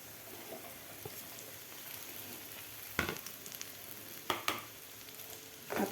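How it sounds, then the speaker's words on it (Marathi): Chopped okra fries with coarsely crushed garlic in a pan over high flame for lasooni bhendi, a soft, steady sizzle broken by a few sharp clatters and scrapes as the okra is stirred. "आता यामध्ये घालायची आपल्याला कापून घेतलेली भेंडी."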